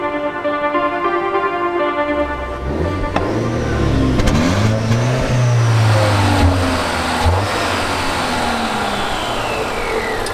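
A Volvo XC60 T6 with an 8-speed automatic launches hard from a standstill in dynamic mode, its engine swelling through rising, sweeping revs with audible gear changes, loud and close from inside the cabin.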